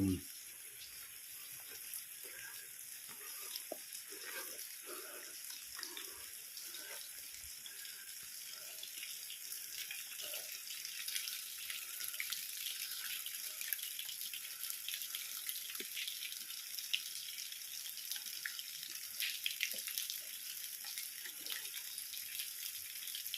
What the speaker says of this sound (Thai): สายน้ำลำธาร